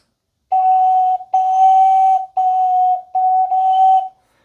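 An ocarina plays four sustained notes on roughly the same pitch, each blown a little softer or harder so the volume shifts, clear, close and solo with brief gaps between notes.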